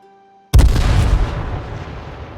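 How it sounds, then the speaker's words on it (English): Grenade exploding in H1Z1, a single loud close blast that bursts out of near silence and decays into a rumbling tail over about two seconds. "So I'm just gonna aim right here to see where the grenade lands."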